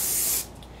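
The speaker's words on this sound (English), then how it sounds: "we are using a spray can gloss poly, and Tyler is now putting some coats on ther" Spray can of gloss polyurethane finish being applied to a chair during restoration, a loud, steady hiss lasting under half a second before cutting off abruptly, leaving faint room noise.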